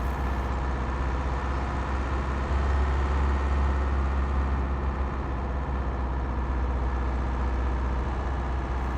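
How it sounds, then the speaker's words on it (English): A vehicle engine in the Truck and Logistics Simulator game, a continuous deep droning hum with a steady low rumble at even, fairly loud level for the whole stretch, no voices. "I should also mention the sounds here of the engine and stuff"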